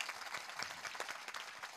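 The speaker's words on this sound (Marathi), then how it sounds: "एकदा त्यांच्या कर्तृत्वासाठी जोरदार टाळी वाजवा" An audience at a kirtan gathering claps hands in loud, fast, irregular applause throughout.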